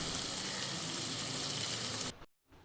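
A paste of cashew, ginger, poppy seed and green chilli fries with tomato and paneer in a pan, sizzling loudly and steadily as it is stirred, then cutting off abruptly near the end.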